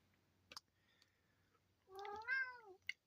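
A house cat meows to be let outside, a soft click followed by one drawn-out, rising and falling meow and a final faint click in a quiet room.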